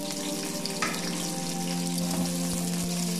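Chopped onions fry in hot oil for a pulao, giving a loud, steady sizzle and crackle that runs unbroken from start to finish, with a couple of brief clinks partway through and no voices.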